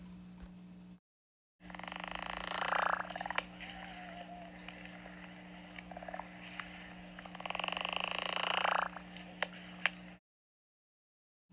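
Wandering albatross calling in two drawn-out bursts of rasping, braying groans over a constant hum, heard alone at moderate distance with no talk.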